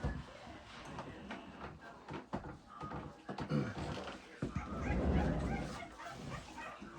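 Newborn puppies whimper, yip and squeal close by, with frequent overlapping cries and soft rustling as they are handled.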